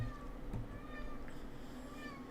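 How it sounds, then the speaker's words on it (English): A house cat meows faintly a few times, thin high cries over a steady background hum with slight talk in the room. "Cat's crying."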